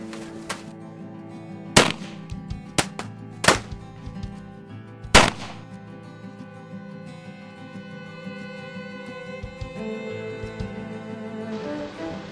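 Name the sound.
gunshots in a bank robbery reenactment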